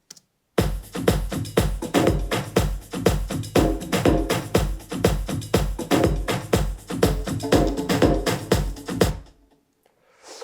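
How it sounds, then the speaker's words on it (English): Layered drum loops with toms and heavy reverb pound out a dense, steady groove for several seconds, loud and close, then cut off into a short reverb tail. "if you listen all the drums together, it sounds like this."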